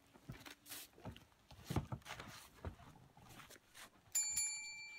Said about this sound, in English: Referee Patar Fire Breather calling for the bell, and this match is underway.